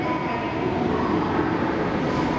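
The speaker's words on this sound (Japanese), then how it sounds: "まもなく10番線に列車が到着します。" Rumbling of a 733 series train rolling into Sapporo Station, a continuous loud mechanical roar with a faint high whine, no speech over it.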